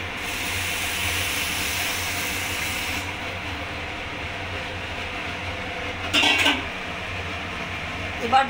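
Warm water goes into a pan of fried Gobindobhog rice and sets off a loud hiss for a few seconds. The hiss then drops to a quieter simmer, broken by a brief clatter near the end.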